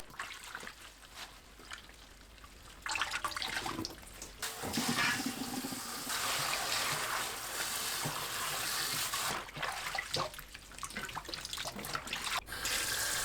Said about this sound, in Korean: 곰피를 물에 헹굽니다.